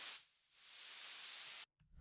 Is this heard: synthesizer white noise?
yes